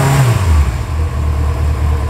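A 2000 Yamaha XJ600N motorcycle engine idles at about 1,000 rpm, a loud, steady close-up rumble with a slight dip in pitch at the start.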